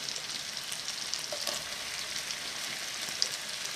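Leeks and small onions frying in a pan, a steady, even sizzle with soft crackles throughout, close and moderately loud, with no talking.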